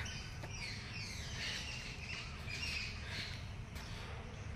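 Birds chirp and squawk faintly at a distance over a steady outdoor hiss, with scattered calls throughout.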